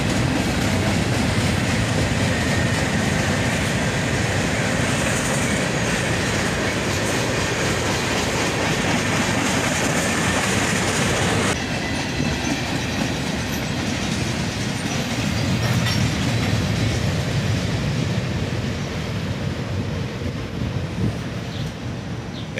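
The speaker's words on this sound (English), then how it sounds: "Here's a pair of Procore cylindrical covered hoppers," Freight train with a pair of cylindrical covered hoppers rolling past, continuous close rumble and clickety-clack of wheels on rail with faint wheel squeal, steady throughout.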